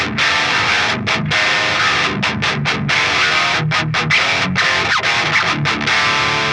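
Electric guitar played through a Fortin Big Chugs pedal with the low end filtered out, producing a thin, buzzy distorted tone in choppy rhythmic chugs with short stops between phrases, loud and close with no talking.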